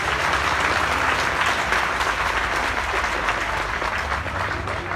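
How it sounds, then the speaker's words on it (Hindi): Dense, sustained applause from a large crowd at a protest sit-in in Delhi, a steady wash of many hands clapping at once that holds loud and even from start to finish. "तो एक बहुत जोरदार तालियां उनके लिए बजाएं।"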